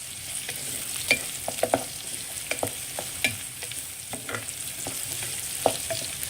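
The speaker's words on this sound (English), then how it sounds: "Okay, I've just added the garlic. Give it a good mix." Garlic, added to softening onions for a vegetable egg tofu soup, fries in a pan while being stirred, with frequent scraping clicks of a utensil over a steady sizzle and no voices.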